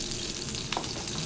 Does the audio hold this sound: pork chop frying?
yes